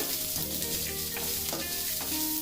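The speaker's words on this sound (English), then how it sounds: "So, onions and celery gone. Let us quickly saute them." Chopped onions and celery sauté in a hot pan for south Indian-style stir-fried vegetables. A dense, close sizzle continues throughout with light stirring clatter and no speech.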